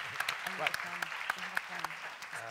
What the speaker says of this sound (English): Great round of applause.